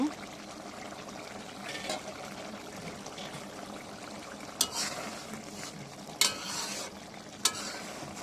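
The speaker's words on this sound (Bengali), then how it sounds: "তরকারিটা এই পর্যায়ে একটু নেড়ে দিলাম" Pangas fish curry with potatoes stirred in a pan, giving a soft continuous scraping and gentle simmering bubble, broken by a few sharp utensil clinks against the pan, close and fairly quiet.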